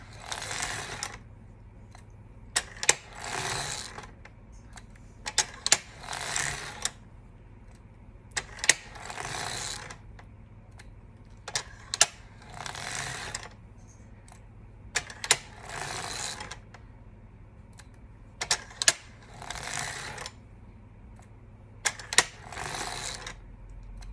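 A sock knitting machine with a 72-needle cylinder runs while knitting a ribbed sock, producing repeated bursts of clattering mechanical rattle separated by short pauses with sharp clicks in between, close and steady, with no talking.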